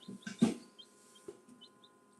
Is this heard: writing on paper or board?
no